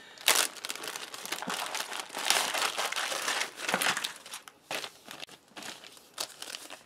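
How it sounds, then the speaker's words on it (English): A plastic zip-seal accessory packet from a ration kit is handled and opened, giving a steady run of close, loud crinkling and crumpling with sharp rustles for several seconds and only a brief spoken word. "let's look at this accessory packet. Nice zip seal bag."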